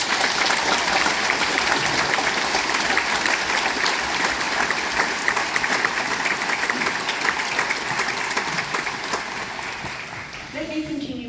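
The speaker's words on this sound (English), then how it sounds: "join me and the platform party in thanking them with a vigorous round of applause" Vigorous applause from a large audience at a university convocation ceremony, a loud, sustained roar of many hands clapping that continues for about ten seconds before starting to ease as a voice comes in.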